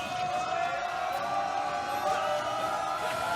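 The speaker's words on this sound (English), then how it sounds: "The crowd is going wild right now." Tournament crowd at a Super Smash Bros. event, Regen 2019 Losers Top 8, cheering in a steady, dense roar that fills the whole stretch with a few louder swells.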